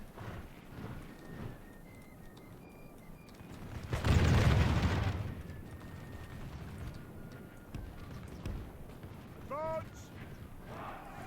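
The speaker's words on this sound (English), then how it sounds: "Musketeers are opening fire now" A single loud burst of musket volley fire in the English Civil War mod for Medieval 2, rising from a quieter battlefield din. Someone talks over the background before and after it.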